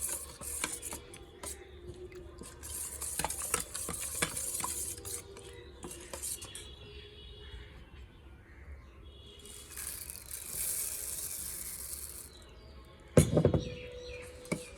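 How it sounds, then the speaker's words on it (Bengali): Soft puffed rice (muri) mixture being mixed by hand in a bowl, giving faint, irregular rustles and scrapes with a few sharper clinks and one louder knock near the end; no voices. "একটু নরম নরম করেই মাখিয়ে নিচ্ছি মুড়ি দেবো"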